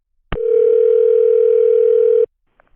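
A steady, loud telephone dial tone hums for about two seconds on a call to a company, starting with a click and stopping abruptly, then a couple of faint clicks follow. No one speaks.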